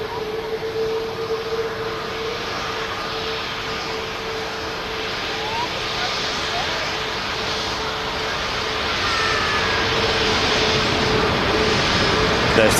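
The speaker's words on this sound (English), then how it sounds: "Virgin Atlantic A330 now rolling. What's starting its takeoff roll." A Virgin Atlantic Airbus A330 on its takeoff roll at Manchester Airport at full thrust sends out a continuous jet roar with a steady engine whine that builds gradually louder over the span, heard from a distance.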